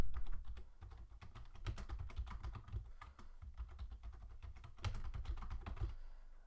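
A passphrase is typed on a computer keyboard in a quick, uneven run of close key clicks with a short pause and a final burst, quiet and without speech.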